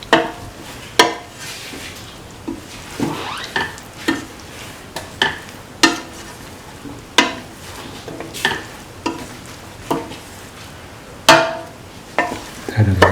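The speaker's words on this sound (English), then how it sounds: "Thoroughly mix." A spoon repeatedly scrapes and knocks inside a pot while potato and bottle gourd stew is mixed, sharp close clacks coming every second or so over a soft wet stirring sound.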